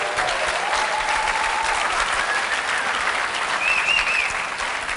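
A conference audience breaks into sustained applause, a dense wash of many hands clapping at an even level for several seconds.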